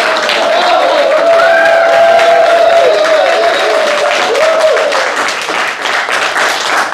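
PhD scholars at a session on building a successful company applaud together in a room, steady sustained clapping at full volume with a few voices rising over it.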